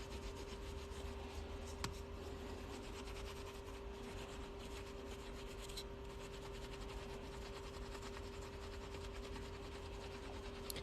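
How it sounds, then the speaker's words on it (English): Steel wool rubs continuously across quarter coins, producing a faint, steady scratchy hiss with no pauses. "I'm gonna get some steel wool and we'll just rub away some of the higher details on this."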